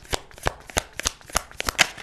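A tarot card deck being shuffled, quick riffling bursts of cards snapping together in an uneven rhythm, close and clear with no talking.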